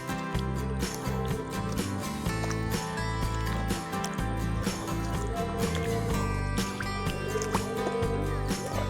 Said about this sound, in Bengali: এই হচ্ছে আমাদের নৌকা এসে গেছে, দেখতে পাচ্ছ?